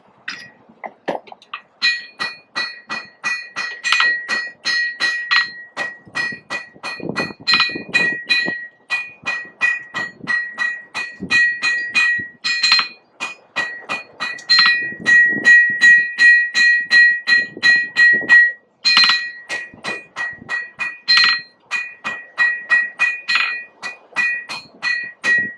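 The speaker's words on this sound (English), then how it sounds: "Wondering why I'm hammering, and then all of a sudden, when I'm not hitting on the metal, I'm tapping on the anvil." A blacksmith hammers hot metal on an anvil in quick rhythmic bursts, with light taps on the anvil between blows. Each strike rings out bright and metallic, close and loud, with short pauses between runs.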